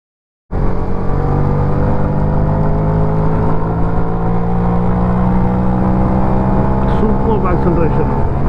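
A motorbike engine at speed, steady loud droning roar with tonal engine harmonics holding throughout after a sudden start, close and continuous with no voices.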